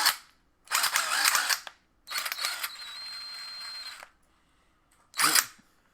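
Battery-powered 1/2 inch impact wrench firing in three close, loud bursts. The first is short and rattling, the second a longer run of about two seconds, and the last a brief final hit, with quiet gaps between.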